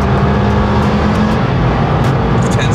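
An Audi Sport Quattro from the 1980s drives with a steady, loud engine drone held at an even level throughout, with no voices.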